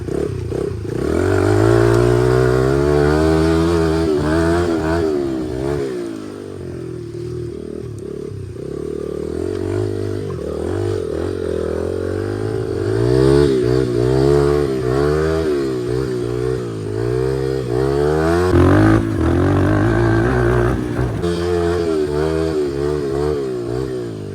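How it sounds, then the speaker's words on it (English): Motorcycle with the exhaust baffle removed, ridden on wet, rainy trails; a loud, raspy engine rises and falls through repeated revving and gear changes, staying close and continuous throughout. "I removed the baffle on the exhaust pipe, so it's just a tinge louder than the other one."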